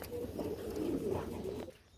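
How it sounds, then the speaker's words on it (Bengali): Danish fancy pigeons coo softly and repeatedly in a loft, low rolling calls under a steady background hum, fairly faint and fading toward the end. "দুইটা বাচ্চা সহকারে মেক পাই ড্যানিশ কবুতর রয়েছে"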